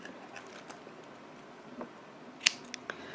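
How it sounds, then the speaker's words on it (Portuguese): A single sharp snip of scissors cutting crochet yarn, quick and close in a quiet room, followed by a couple of faint ticks. "Aqui nós vamos laçar o fio, puxar e cortar"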